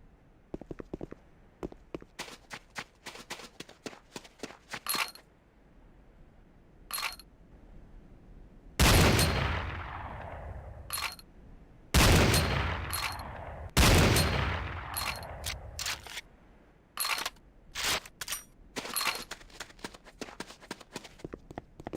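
Game gunfire at a firing range, with quick single shots and tight bursts alongside several long, roaring blasts that ring out and fade, loud and close with no talking.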